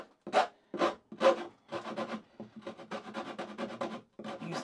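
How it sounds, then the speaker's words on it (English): A wood rasp rounds over a square, rough edge on a wood piece for a car seat dog bed in a series of close, dry scraping strokes, three separate pushes followed by faster, shorter rasping passes. "I'm just gonna do this rough work with this rasp"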